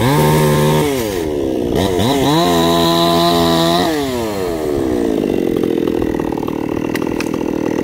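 A chainsaw cuts through a tree, its engine loud and close, revving up and down in long pitched sweeps before settling into a steady cutting drone.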